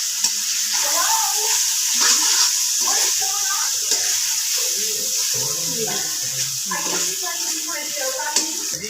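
Water runs into a cooking pot of simmering vegetables with tomato paste, a steady hissing pour with splashes and clatters over the sizzle, loud and close.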